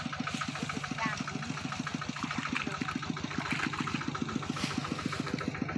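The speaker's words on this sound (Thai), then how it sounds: "รถไถนามาแล้วนะเนี่ย" A farm tractor engine idles nearby with a steady, rhythmic chugging knock, and voices can be heard over it, during a rice harvest in waterlogged fields.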